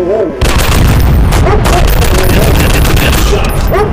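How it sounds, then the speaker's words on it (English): Heavy, continuous gunfire from an Android first-person shooter game, loud rapid bursts with booming impacts filling the whole stretch while a voice speaks intermittently over the shooting. "Take the shot!"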